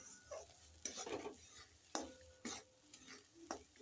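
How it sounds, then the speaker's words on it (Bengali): Ground flat bean paste being stirred in a pan: a few faint, separate scraping strokes of a spoon with soft sizzling between them, quiet and close. "শিম বাটাকে এইভাবে 3-4 মিনিট নাড়তে হবে।"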